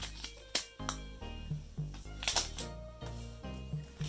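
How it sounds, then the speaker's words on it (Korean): Protective packaging film is tugged and peeled off an M4 Mac mini, heard as a series of close, sharp crackling snaps and ticks at irregular intervals, fairly quiet, with no talking. "본체 보호용 포장재를 떼어냅니다"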